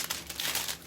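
Metallic foil crinkling as it is scrunched against a tabletop leg, a brief dense crackle heard close and alone.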